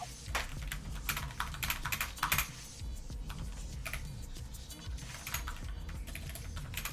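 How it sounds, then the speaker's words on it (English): Fingers type on a computer keyboard in quick, irregular bursts of close, crisp key clicks with short pauses between runs, continuous throughout with no voices. "I'm typing something, Master Wolf."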